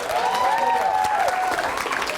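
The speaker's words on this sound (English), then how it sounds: "Give him a round of applause." Applause from wedding guests during the reception speeches, a steady burst of clapping lasting a couple of seconds, with a whistle-like tone and some cheering over it.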